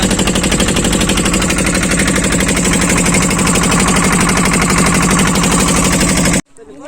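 A boat engine on the Nagarjuna Sagar Dam reservoir runs with a loud, close, steady rapid chugging throb that continues unbroken for several seconds before cutting off abruptly near the end.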